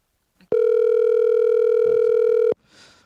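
Telephone ringback tone on an outgoing call, a single steady loud electronic tone lasting about two seconds, close and clear, followed by faint sounds after it cuts off.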